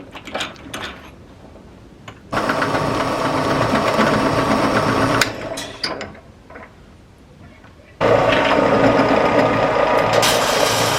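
A power drill whines and grinds through metal while fabricating parts for a Mazda Miata, in two long bursts separated by a brief pause with scattered clicks and handling noises.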